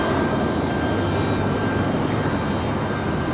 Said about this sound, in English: We've got another little private plane coming in for arrival.